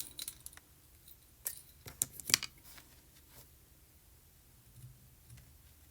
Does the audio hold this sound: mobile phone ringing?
no